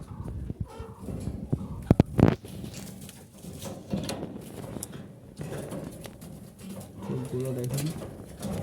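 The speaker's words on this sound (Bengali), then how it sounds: "স্ক্রিনে দেখতে পাচ্ছেন এটা একটা নর কবুতর" Wild Jalali pigeons coo nearby in low, repeated throaty calls, with a few sharp knocks early on and someone talking across much of it.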